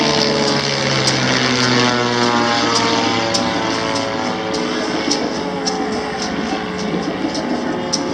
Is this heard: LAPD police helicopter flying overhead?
yes